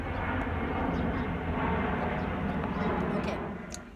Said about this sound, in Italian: lo sentite l'aereo?